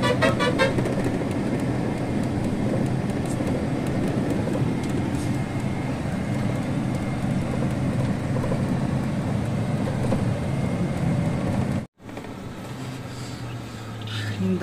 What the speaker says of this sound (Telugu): ఇగో సంతానం డ్రైవింగ్ చేస్తున్నాడు